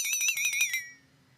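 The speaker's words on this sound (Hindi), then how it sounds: "अलार्म क्लॉक की घंटी उतनी ही बजनी चाहिए जितने में चीकू उठे।" An alarm clock rings loudly with a rapid, warbling electronic trill of about eight pulses, then cuts off, leaving a faint low hum.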